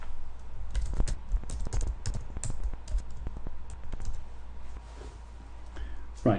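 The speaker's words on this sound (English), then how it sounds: "it's here that we will type in the compelling headline." A headline is typed on a computer keyboard: quick, uneven bursts of light key clicks, close and fairly quiet against a faint steady background hum.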